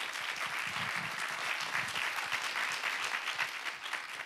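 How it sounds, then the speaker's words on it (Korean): A studio audience at a Korean lecture competition applauds ten soldiers who gave talks, a sustained, full burst of crowd clapping that runs evenly from start to finish. "오늘 수고한 10명의 장병들에게 다시 한번 여러분 큰 박수 좀 부탁드리겠습니다"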